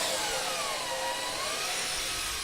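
A power drill bores holes in wood while assembling an ITG2 dance pad replica, giving a loud, steady, continuous whine with a gritty cutting texture that stays close and unbroken throughout, with no talking.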